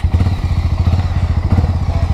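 A Harley-Davidson X440 motorcycle, around 27 bhp, accelerates with a loud, close, rapid pulsing engine thump and steady low rumble throughout, with wind noise over the top.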